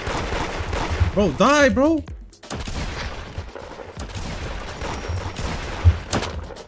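Rapid gunfire in the Roblox game Da Hood comes in bursts of sharp shots, loud and close, mixed with game sound effects and a player talking over the action.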